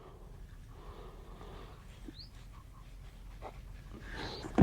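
Small dog sniffing eagerly at sweetened fishing groundbait, quick soft snorting sniffs and panting breaths close by, faint, with a louder snuffle at the end.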